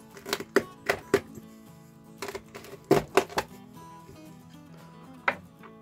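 A knife cuts through the head of a crucian carp full of roe, giving a run of sharp, close chopping thunks in irregular clusters over a steady low background tone.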